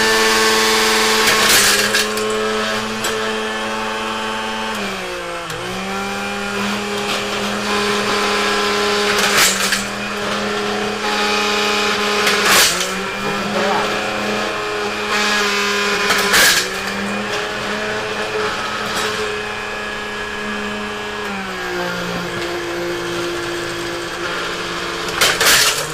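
A vintage electric ice crusher runs with a loud, steady motor whine. Its pitch dips and recovers several times as the load changes, and there are sharp rattling bursts as ice is crushed. The sound is close and continuous, with no talk.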